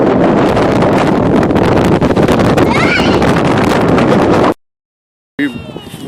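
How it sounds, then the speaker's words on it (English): Strong gusty wind buffets the microphone outdoors at an art museum park in North Carolina, a loud continuous roar that stops abruptly, then returns briefly after a gap of silence. "Wind so strong right here."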